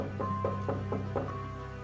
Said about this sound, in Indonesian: Terdengar ketukan lagi